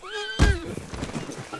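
A horse neighing in the RedM game, a short wavering whinny followed by a heavy thump and a brief rustling tail, close and fairly loud.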